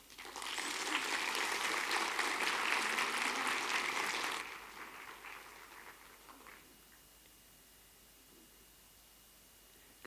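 An audience claps to welcome speaker Nina Kraus at a conference. Dense applause rises quickly and holds for about four seconds, then thins into a few scattered claps and fades to quiet room noise.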